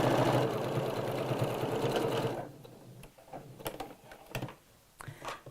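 A sewing machine stitches fabric around a corner with a fast, steady mechanical whirr that runs for about two seconds, then stops. Scattered clicks and handling noises follow.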